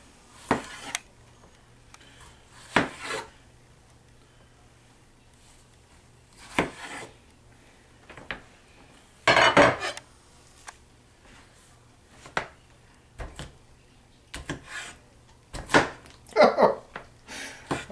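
A slicer tool cuts through big tomatoes in a run of short, separate rasping strokes at irregular intervals, fairly faint and close by in a quiet room.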